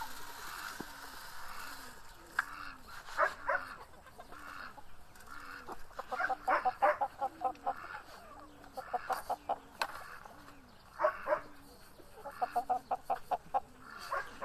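Pigeons eat scattered wheat grains close by, with steady rhythmic cooing running under a dense patter of quick sharp pecking clicks that come in bursts and thicken toward the middle.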